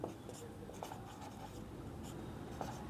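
Pen or chalk writing out a right-triangle trigonometry problem for a Class 10 maths lesson, a steady stream of soft scratching strokes with brief taps, close and fairly quiet, with no talking.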